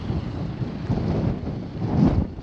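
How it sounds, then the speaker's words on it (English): Strong gale-force wind roars and buffets the microphone steadily at the Kennedy Range in Australia, with low rumbling gusts swelling louder toward the end. "it's just blowing a gale"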